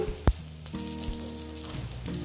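Whole cumin seeds and bay leaves hit hot oil for an egg and potato curry, giving a steady close frying hiss with one sharp pop near the start and no talk.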